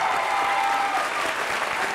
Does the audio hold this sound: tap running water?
no